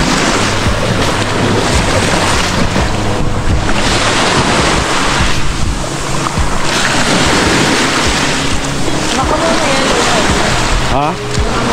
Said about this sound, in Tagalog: Iba yung dagat dito.